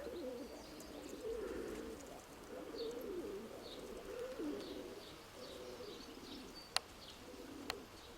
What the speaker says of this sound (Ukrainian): Ось він цей дві-дві, рижий такий голуб.